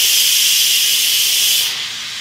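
Steam hisses out of an Instant Pot's pressure release valve in a loud, steady, close rush of broadband noise that eases slightly toward the end.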